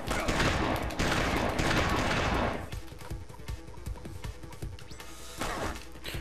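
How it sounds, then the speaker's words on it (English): Gunfire in the video game Mission Impossible: Operation Surma, a dense loud burst of shots and crashing for about two seconds, then lighter scattered shots and clatter continuing. "Where's that other gunshot coming from?"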